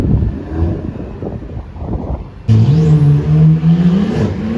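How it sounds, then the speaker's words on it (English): A first-generation Honda NSX (NA1) supercar on a Toronto city street during a big supercar show: wind rumble at first, then a loud, close engine note that swells in and holds a steady, slowly rising drone. "Another NSX."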